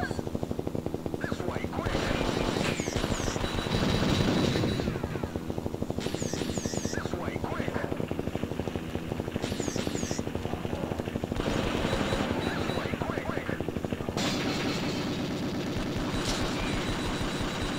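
Gameplay of the 1994 Taito F3 arcade game Elevator Action Returns: repeated bursts of gunfire and explosive blasts over a continuous thrumming helicopter-like drone, with a player talking throughout.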